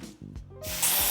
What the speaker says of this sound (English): I'm gonna spray some more at the front here